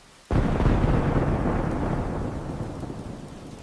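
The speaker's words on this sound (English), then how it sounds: "It is just the thunder, Leo." A sudden loud thunderclap during a rainstorm breaks into a long deep rumble that slowly fades over a few seconds, with rain under it and no voices.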